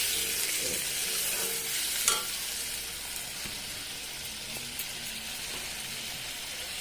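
Paneer going into a simmering home-style masala gravy, a soft steady sizzle and bubbling with a few faint stirring clinks, close and moderately quiet.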